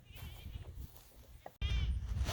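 On a farm, several goats bleat in brief wavering calls. After a short gap the sound returns as a louder, closer bleat, with a faint voice in the background.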